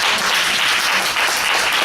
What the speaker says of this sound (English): let's give a hand to the search team